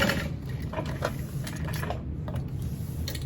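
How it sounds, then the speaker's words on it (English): Sewing machine stitching along the bottom edge of backpack lining pieces, a steady close mechanical whir with a rapid needle rhythm and a few light clicks. "we're gonna sew along the bottom edge of these lining pieces to close that off"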